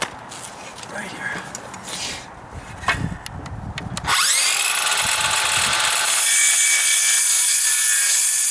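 A power saw cuts a notch in a 4x12 wooden header during dry rot deck repairs. Quiet handling and a short voice come first, then the saw starts loud and close and keeps whining steadily through the cut.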